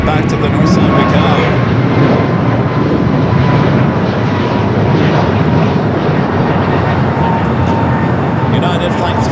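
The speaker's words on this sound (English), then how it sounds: "United Flight 38 coming up from Tokyo Haneda, the 787" A United Boeing 787 Dreamliner arriving at LAX from Tokyo Haneda, its engines a loud, steady broadband roar that fills the whole stretch with no pause.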